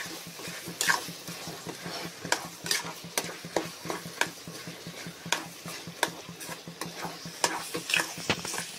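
Chicken fry being stirred with masala powder in a pan, a spoon scraping and clinking against the metal in steady repeated strokes over a low continuous sizzle, close and fairly quiet, with no talking.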